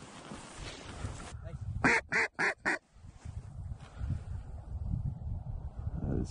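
Ducks flying over bales at dawn during a hunt, a quick run of four loud quacks near the middle over a background of wind-like rumble, with people talking around it.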